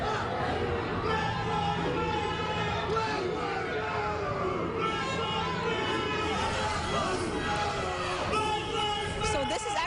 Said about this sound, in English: You can hear the chanting